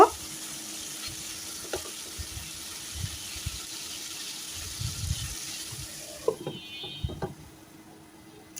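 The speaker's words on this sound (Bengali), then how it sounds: "আলু আর পেঁপেটা ভালো করে কষিয়ে নেব" Potato and papaya sauté in oil for a tilapia fish curry, giving a faint, low sizzle with scattered clinks of a spoon against the pan and a brief burst of running water near the end.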